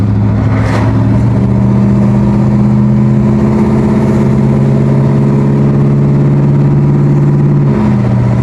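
A 1955 Oldsmobile with a newly swapped 4L60E transmission pulls steadily through its gears, a loud sustained engine drone with a brief dip at each shift, heard from inside the car with no talk.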